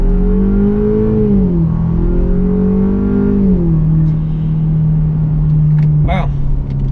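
A modified Ford Ranger pickup accelerates hard nearby, its engine and exhaust droning loudly through rising gear pulls, then a short sharp backfire pop near the end.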